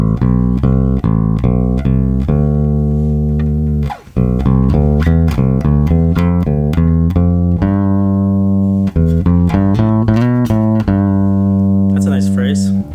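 A scale is played as a run of four-note groupings, the notes stepping steadily in clear rhythmic clusters, loud and close with no talking.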